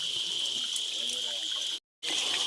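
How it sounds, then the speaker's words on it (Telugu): Water trickles steadily from a rock crevice on a hillside near a tribal village as it is collected, a continuous close splashing flow that cuts out briefly near the end. "రాయి కేర నుంచి వచ్చే వాటర్ అండి"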